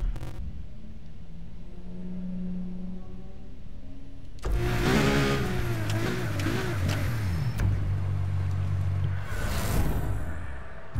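A car engine in a Need for Speed Heat race on PC, idling quietly and then surging into loud sustained revving with shifting pitch as the race begins.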